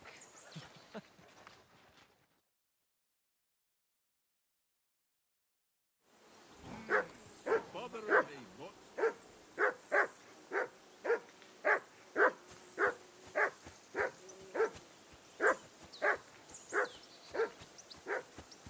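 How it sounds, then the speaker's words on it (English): A dog barks repeatedly in Kingdom Come: Deliverance II at a riverbank camp, a steady run of sharp, evenly spaced barks close by, loud and alone after a brief quiet gap. "that barking's driving me nuts"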